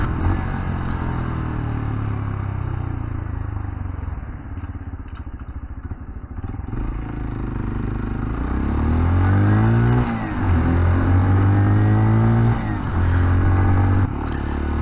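An RSV4 motorcycle engine revs nearby over a steady idle, its pitch sweeping up and down in several quick throttle blips toward the end, loud and continuous with no talk.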